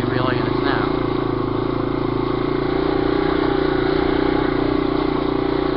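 A Yamaha 200E motorcycle engine runs steadily in snow, a continuous mid-pitched drone with a faint rev near the start, close and loud throughout, with no talk.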